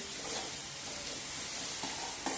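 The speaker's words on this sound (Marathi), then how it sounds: "तीन मिनिटे या भाज्या आपण छान अशा परतून घेतलेल्या आहेत" Vegetables for veg hakka noodles stir-fry over full heat, producing a loud, dense, continuous sizzle up close with a couple of soft stirring knocks toward the end.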